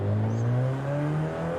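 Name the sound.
car engine accelerating with turbo boost in Forza Horizon 5 video game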